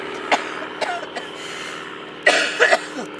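Coughing at an outdoor primitive pottery sawdust firing, a few short bursts: a couple of faint single coughs early, then a louder cluster of two or three coughs near the end over steady background.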